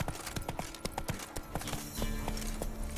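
Hooves of Roach, the horse in The Witcher 3, clatter in a quick, steady clip-clop near the listener, with sharp strikes running through the whole stretch over a faint ambient bed.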